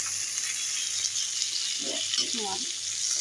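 Food frying in a pan, a steady broad sizzle running throughout with a few brief stirring or clinking sounds near the end, moderately close.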